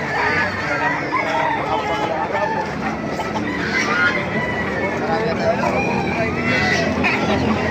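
SBR chickens about seven months old cluck and call close by at the Baliuag market, with a rooster-like crow mixed in and people talking in Filipino over the birds.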